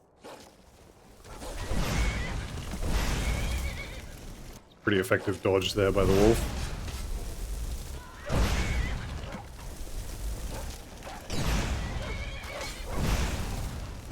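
Loud horse whinnies and snorts mix with game sound effects and whooshes in The Elder Scrolls V: Skyrim Special Edition, while someone talks over them.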